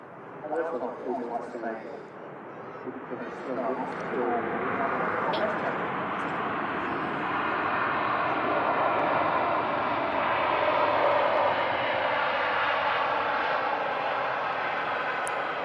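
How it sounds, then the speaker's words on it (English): A Boeing Dreamliner from a Middle East carrier touches down at Manchester Airport. After a few seconds of voices, a broad, steady jet roar builds and holds, distant but strong. "Beautiful touchdown there from the Dreamliner."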